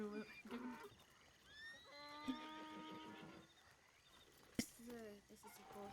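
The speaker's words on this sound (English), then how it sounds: "This is a horse that the man gave me." A Dutch Warmblood horse in the Red Dead-based WildRP roleplay game gives a drawn-out whinny. Quieter snorts and a couple of sharp thuds follow, with faint background murmuring.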